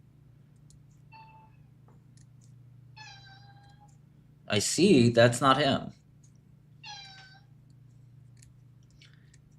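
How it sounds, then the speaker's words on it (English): A cat meows several times, short tonal cries spaced apart against a steady low hum, with a burst of talking in the middle. "Stop meowing at me."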